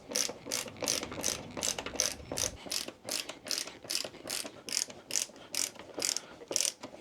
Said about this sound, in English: all we do now is a reverse of these 4 screws and put the lid back on